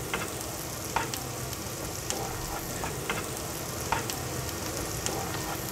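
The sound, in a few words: onions frying and caramelizing in butter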